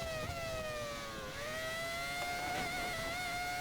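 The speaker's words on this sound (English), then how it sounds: "Listen to the engine absolutely screaming." A Formula 1 car engine screaming at high revs on the Imola circuit in the F1 2013 video game, a sustained loud tonal whine that dips briefly then climbs again.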